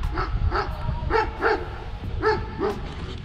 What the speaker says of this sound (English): Got a dog barking at me.